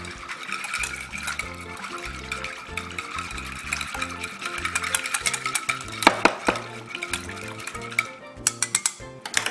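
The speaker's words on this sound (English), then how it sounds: "I'm going to give all of this a quick whisk." A whisk beats an egg into a Jamaican beef patty crust mixture in a bowl, giving quick rhythmic clinks and scraping strokes against the bowl with a few louder taps near the end, no talking.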